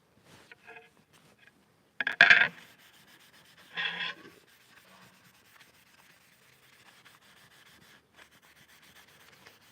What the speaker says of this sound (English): basically what I'm doing is just kind of buffing out the oil finish that I put on here